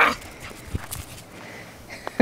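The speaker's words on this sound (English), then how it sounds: "Whoever says Chihuahuas don't like to play in snow obviously doesn't have my Chihuahuas." Small dog yips and whimpers from Chihuahuas playing outdoors in the snow during a snowstorm, several short high-pitched calls spread across the moment, with a brief louder cry near the end.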